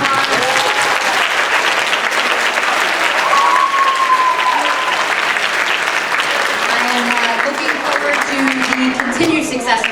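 An audience at a middle school spring concert applauds loudly and continuously, the dense clapping of a full room sustained throughout, with voices calling out faintly underneath.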